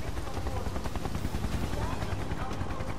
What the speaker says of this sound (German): Eindeutig ein Heli.